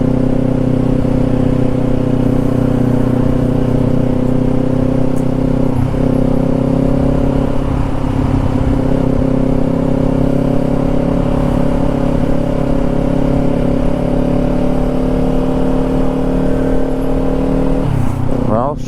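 Steady loud engine drone of a motorcycle cruising on a road on the way toward Cherokee, with wind rush and a few bumps and shifts, continuous and close throughout.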